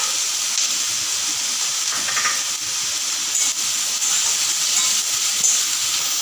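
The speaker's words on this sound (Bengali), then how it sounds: "বেগুন দিয়ে হালকা করে ভেজে নেব দিয়ে দেবো কাঁচা লঙ্কা" Eggplant with green chilli fries lightly in a pan in a village-style kitchen, a steady close sizzle and hiss that runs unbroken throughout.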